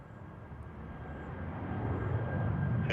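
Delta airliner on its takeoff roll from runway 34 right, heard as a steady, broad engine roar that swells gradually over a few seconds from some distance, with no voices.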